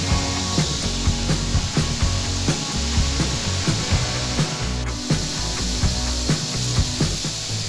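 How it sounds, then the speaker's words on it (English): A hand-forged axe head is run down a sanding machine one side at a time, giving a loud, continuous abrasive grinding with rhythmic pulses as each stroke is repeated. "running the front of the axe head, one side at a time, down the sandpaper"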